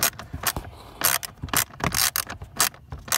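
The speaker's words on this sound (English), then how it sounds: "So, we're using the ratchet set." A hand ratchet loosens screws on the dash of a 2007-2014 Dodge Avenger during air door actuator work, making quick close clicking bursts in an uneven rhythm of short strokes, with no talking.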